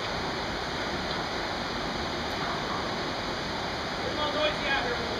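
Constant roaring flow of outdoor water, close and loud like a cascading stream, with faint voices surfacing briefly near the end under the noise.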